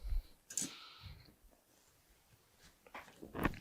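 A few sharp plastic clicks and rustles as a Leeventi teleprompter is folded up, close and scattered with quiet gaps between them.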